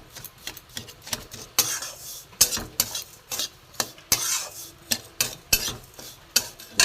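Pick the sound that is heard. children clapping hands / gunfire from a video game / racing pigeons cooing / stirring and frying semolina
stirring and frying semolina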